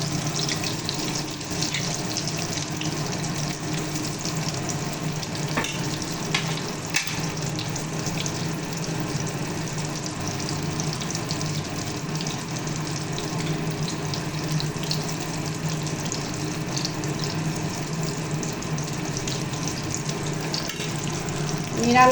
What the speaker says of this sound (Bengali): ওইভাবে পুরটা ভরে জাস্ট বেগুনির মতন তেলেতে ছেড়ে দেবেন।